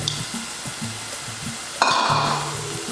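Bacon tipped back into a hot pan for picadinho, a steady frying hiss that suddenly swells into a louder, brighter sizzle partway through and holds there, close and with no talking.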